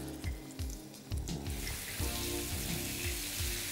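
Flour-dredged hake laid into very hot oil, a steady broad sizzle and crackle of frying running throughout at close range, with no voices over it.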